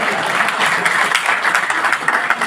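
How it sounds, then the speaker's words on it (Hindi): Steady, dense audience applause at a Haryanvi singers' stage event, continuous clapping from a crowd filling the whole stretch without pause. "ताली बजाओ कौन।"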